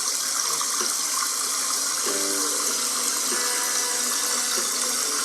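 Water runs from a tap in a steady, close, continuous gush, with a few brief tonal squeaks from the pipes partway through.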